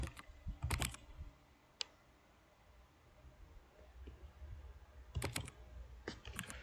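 Keys tapped on a computer keyboard while deleting code, short quiet clusters of clicks separated by a stretch of faint room hiss, close and soft.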